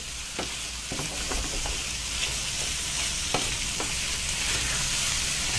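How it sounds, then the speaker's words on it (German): Sausage and bacon cubes fry in a pan for Tyrolean speck dumplings, giving a steady close sizzle with scattered crackles and occasional stirring scrapes, with no voices. "dass die Wurst ein bisschen angeröstet ist, weil der Geschmack richtig rauskommt"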